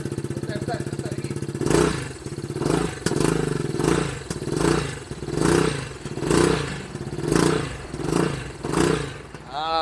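Aveta Vanguard 250 scooter engine, miked right at the exhaust, idles briefly and then is blipped in a steady series of loud, bassy revs rising and falling roughly once a second.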